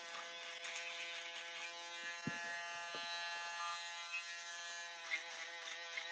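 Electric foil shaver running in a barbershop: a continuous close, even buzz with a few soft knocks and handling bumps along the way, no voices.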